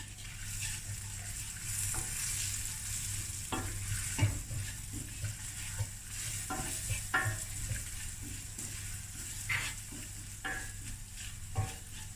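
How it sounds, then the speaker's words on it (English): A spoon stirs turmeric and aromat through sizzling oil in a frying pan for festive rice, with repeated scraping strokes over a soft, steady sizzle and no talking. "Give this a stir."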